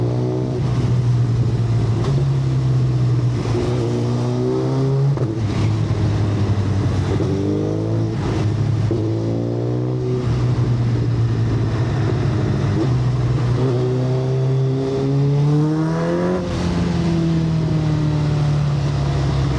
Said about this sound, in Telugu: I want you guys to listen to the exhaust